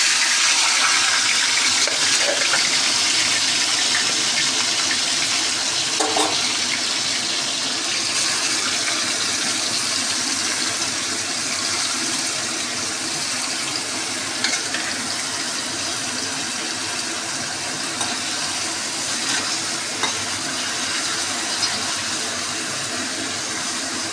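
Boiled bottle gourd stems and greens, with a piece of potato, hit hot oil in a home kitchen pan, raising a steady, dense sizzle that hisses on evenly and fairly loud throughout.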